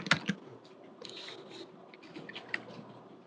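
Typing on a computer keyboard while entering text in a design program, with quiet scattered key clicks in an irregular patter over soft room tone.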